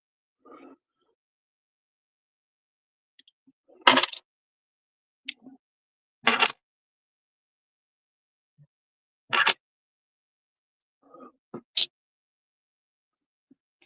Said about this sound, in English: So what I'm going to do is separate the coins.